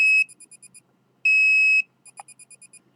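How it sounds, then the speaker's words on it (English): An EMF detector gives a long steady beep, a quick run of short pulsed beeps, then another long tone and a further train of short beeps, all close and clear with no talking. "My detector just turned off automatically."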